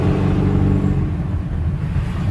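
A 7.3 diesel truck engine rumbles loud and close from underneath the vehicle, a heavy low idle with slight revving swells and no voices over it.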